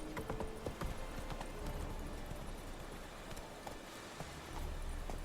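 Roach the horse galloping in The Witcher 3, a steady run of rhythmic hoof clip-clops close by with soft game ambience, the pace holding throughout and the hoofbeats swelling slightly near the end.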